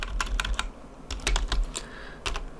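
Quick bursts of keystrokes on a computer keyboard as a terminal command is entered on a database server, close and clear with short pauses between clusters of taps, no voices.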